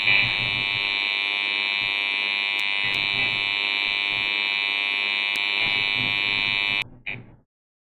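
A loud, steady electronic buzzer tone drones continuously for several seconds, then cuts off abruptly and fades out.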